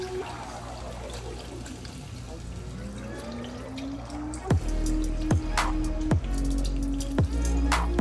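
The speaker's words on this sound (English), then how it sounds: "I'll add the rest of this chicken broth." Chicken broth pours steadily into a pot with chicken in it, the splashing fill rising in pitch as the pot fills, with a few sharp clunks near the end.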